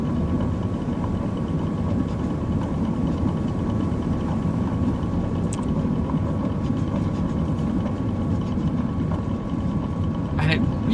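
A light aircraft taxiing after landing, its engine droning steadily and loudly up close throughout, with a voice talking over the engine noise.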